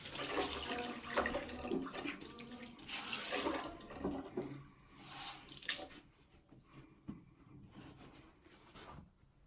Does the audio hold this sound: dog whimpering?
no